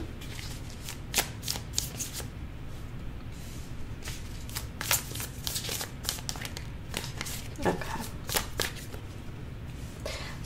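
Tarot cards are shuffled close up in a steady stream of crisp riffles and slaps, continuing for about ten seconds with no talk.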